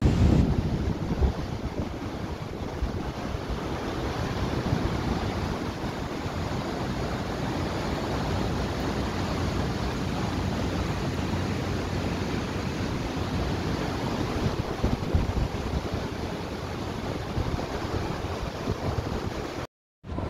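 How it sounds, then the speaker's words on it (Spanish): Floodwater rushes through flooded streets in Medellín, a loud, continuous churning roar with wind buffeting the microphone, steady from start to finish before cutting out abruptly. "Mira el agua que se ve bajar,"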